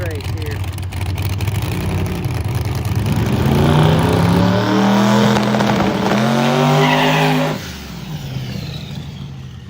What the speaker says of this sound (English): A little fun practice grudge race here.